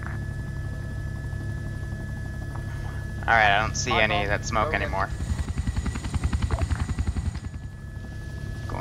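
Enemy helicopter in a Vietnam-era combat video game, a steady low rotor drone with rhythmic chopping pulses rising in the later seconds, heard under a man's speech.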